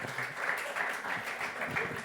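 Participants in a French church youth gathering get a short burst of audience applause, a steady wash of many hands at moderate level with faint voices mixed in.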